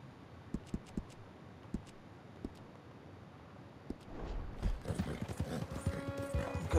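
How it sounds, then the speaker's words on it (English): Horse hooves clip-clop at a steady gallop in Red Dead Redemption 2, sparse regular hoof beats at first, then building into a louder, busier rush of hooves and movement toward the end. "Okay, go, horse, go."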